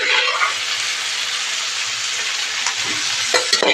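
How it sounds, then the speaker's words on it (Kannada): Boiled snake gourd tipped into a hot pan, giving a loud, steady sizzle with stirring and scraping toward the end, no voices. "ಇವಾಗ ನೋಡಿ ಬೇಯಿಸ್ಕೊಂಡಿರೋ ಪಡವಲಕಾಯಿ ಹಾಕ್ತಾಯಿದ್ದೀನಿ."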